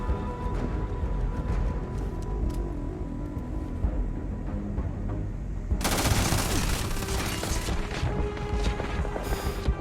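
Sustained automatic gunfire and bursts from the space video game Starfield fill the whole stretch, loud and dense, with a heavier, harsher barrage erupting partway through and faint speech beneath.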